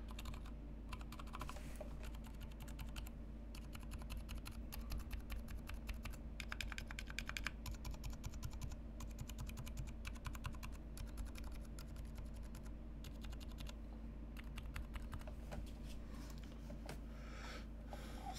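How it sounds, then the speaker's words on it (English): Typing on a Top Clack M60-A keyboard fitted with stock silent switches, a fast uneven run of soft, muted key clicks that continues quietly and closely the whole time. "There's some brief bad typing sounds"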